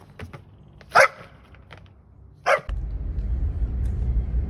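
A dog named Diesel barks twice outdoors, sharp and fairly loud with a pause between, followed by a steady low rumble of background noise.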